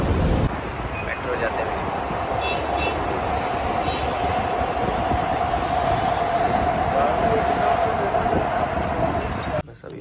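A Dubai metro train rumbles along at speed with a steady hum and faint rail clatter, heard from inside the carriage, with a voice murmuring briefly.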